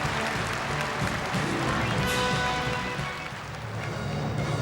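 A large audience applauds after a China–North Korea friendship gala performance, a dense, sustained roar of clapping filling the hall and easing slightly near the end, with a voice speaking over it.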